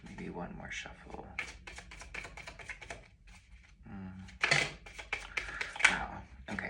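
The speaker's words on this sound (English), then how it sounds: "Maybe one more shuffle." Quick riffling and soft flapping of tarot cards being shuffled close by, with a voice talking quietly in between.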